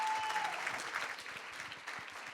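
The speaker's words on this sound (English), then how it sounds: "thank you for the cheering" An audience at a summit event applauding, a fairly faint, distant patter of clapping hands that holds steady and tapers slightly, without clear voices.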